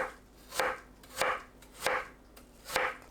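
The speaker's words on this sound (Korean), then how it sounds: "사과는 마지막에 채 썰어주세요." A knife chops an apple into thin strips on a cutting board, with four evenly spaced, crisp thuds sounding up close and alone.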